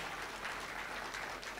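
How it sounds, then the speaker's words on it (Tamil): An audience at a Tamil motivational speech event applauds speakers, a dense, steady wash of many hands clapping heard from some distance and at an even, moderate level throughout the short span. "புதுகை பாரதி 2 பேருக்கு நல்ல கைத்தட்டல் தாங்க."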